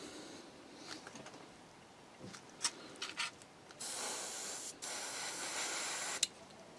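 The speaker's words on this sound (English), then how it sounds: "My compressor on." Airbrush fed by a hobby air compressor during a model kit build, faint background hiss with a few short sprays, then two steady, louder spraying bursts of about a second each.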